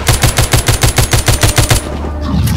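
Rapid automatic gunfire from the zombie shooter game The Walking Zombie 2, a loud, evenly spaced burst of about a dozen shots lasting under two seconds, followed by a brief lingering ambient tail.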